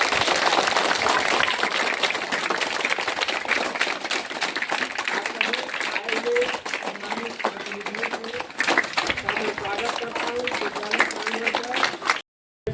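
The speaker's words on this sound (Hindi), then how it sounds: "आप लोग एक जोरदार ताली से स्वागत करें।" An audience at a memorial gathering claps in sustained, loud applause that carries on for several seconds before cutting off abruptly, with crowd voices mixed in.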